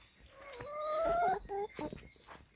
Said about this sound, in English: here's the chickens.